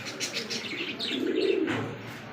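Fancy pigeons at a pigeon sale, a soft close cooing with a few chirps over about two seconds, fairly quiet and with no talking.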